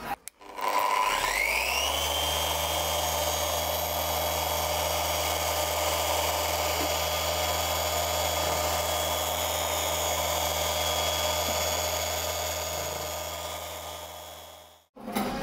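A car paint polishing machine runs at maximum speed on a sprayed panel, a steady high whine that spins up at the start, holds evenly close by for over ten seconds, then stops abruptly.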